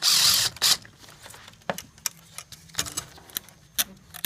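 Metal tool clicks and ratchet-like taps while a T30 bolt is worked loose from the intake manifold bracket of a 2008 VW Audi 2.0T TSI, a short scrape at the start, then scattered close clinks and knocks with quiet gaps.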